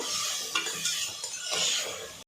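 Chopped tomatoes frying and being stirred in a pan, a continuous soft sizzle with a few gentle scraping strokes, close-up and moderate in level, ending abruptly; nobody speaks.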